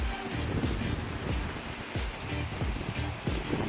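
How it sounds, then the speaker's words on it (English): Steady rain pattering on surfaces outdoors in Negril, Jamaica, a dense even hiss of drops with scattered louder splashes, with no voices. "Just a bit of rain"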